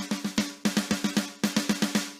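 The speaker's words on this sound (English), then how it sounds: "You're about to learn a drum fill that you're never going to forget." A drum fill played on a drum kit: three quick bursts of rapid, evenly spaced drum hits, about a dozen strokes in all, close, loud and alone.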